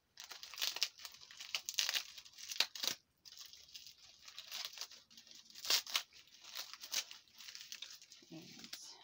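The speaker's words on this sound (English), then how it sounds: "If I can get this tape off sometime today." Packing tape is peeled and torn off a silicone kit package at close range, giving bursts of crinkling and ripping with brief pauses between pulls.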